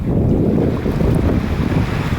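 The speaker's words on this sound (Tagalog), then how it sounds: "Nasa gitna na ako ng dagat. Akin na ngayon ang karagatan." Steady, loud wind buffets the microphone over a continuous wash of sea waves, heard from a boat out in the middle of the open sea with no voices.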